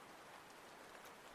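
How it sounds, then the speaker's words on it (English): Steady rain falls on a night at New Year, a faint, even hiss of drops on surfaces heard from indoors through a microphone, with no voices. "Oh, it's really raining now. I can, like, hear it."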